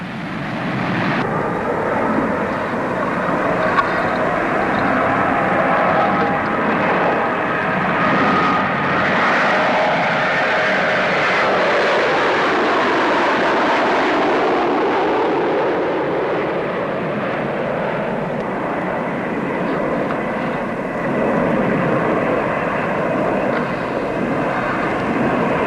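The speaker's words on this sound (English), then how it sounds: "a pressurized 40-seater, again powered by turboprops" Pressurized 40-seat turboprop airliner flying at the Farnborough airshow, its engines giving a loud, steady, droning roar that swells and fades slightly as it passes, with no talk over it.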